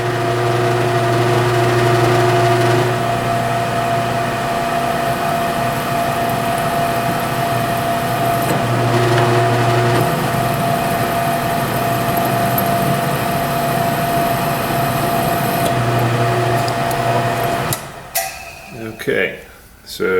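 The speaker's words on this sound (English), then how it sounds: "follow it up with a thread cutting tap this time instead of a thread forming" A drill drives a thread cutting tap during a ResComp RHT thumb brake installation, giving a steady close motor whine with a faint tone that holds for most of the stretch before stopping and giving way to clatter.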